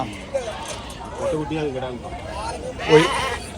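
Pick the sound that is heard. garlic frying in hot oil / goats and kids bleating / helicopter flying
goats and kids bleating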